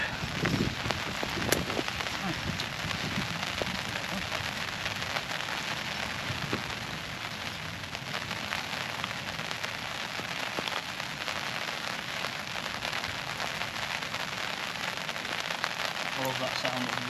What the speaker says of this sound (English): I love that sound of the rain and the tap all the time.